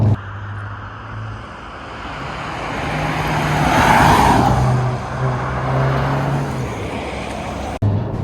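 A Volkswagen Golf GTI 7.5 on Pirelli tyres taking a corner at about 60 on a winding road, heard from inside as a steady engine drone and road roar that swells through the bend and then eases.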